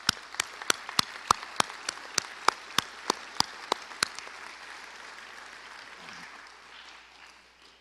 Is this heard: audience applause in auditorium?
yes